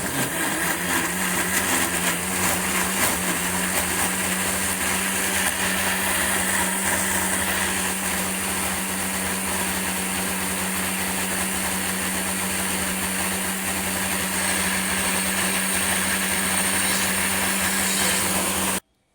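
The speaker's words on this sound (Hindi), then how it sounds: "अब हम इसको करेंगे ग्राइंड" An electric mixer grinder blends banana juice, its motor whirring loudly and steadily for nearly twenty seconds before stopping abruptly.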